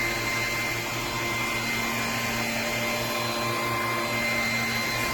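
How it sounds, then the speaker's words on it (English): A Bissell PowerClean vacuum cleaner with a 200 W motor runs with a steady, loud, continuous whine and hum from close by, with no talking over it. "when I turn the vacuum on and the light comes on"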